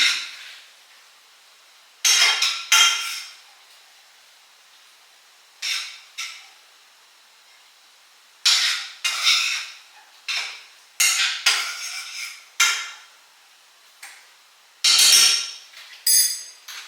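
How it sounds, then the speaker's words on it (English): Spinach is stirred in a metal cooking pot with a spoon. Separate clanks and scrapes come in irregular bursts, with quiet gaps between them. "I'm going to stir up the spinach some."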